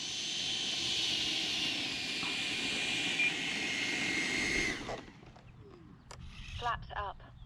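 A radio-controlled model airplane flies steadily for several seconds with a continuous buzzing drone, then cuts out abruptly, leaving quieter handling noises and faint voices in the background.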